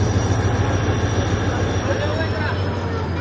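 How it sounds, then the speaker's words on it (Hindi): Shah Latif Express train at Tando Jam railway station, a locomotive's steady low diesel rumble with faint wheel squeal and hiss, heard from close by under ambient noise. "और ट्रेन निकलने के लिए तैयार।"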